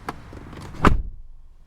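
A 2016 Ford F-150 pickup truck door shuts with a single solid, muffled thud after some faint handling clicks, then quiet.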